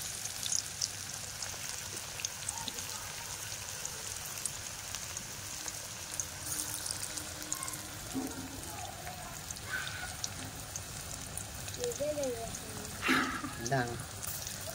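Chicken pakora fries over low heat in hot oil, giving a continuous crackling sizzle throughout with occasional sharper pops and faint voices in the background.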